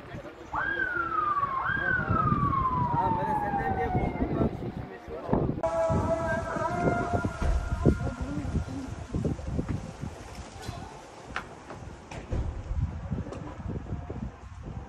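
Sirens of fire engines and police wail and sweep up and down at a large fire in Iskenderun after a storm, heard over strong wind buffeting the microphone, with voices and crowd noise around.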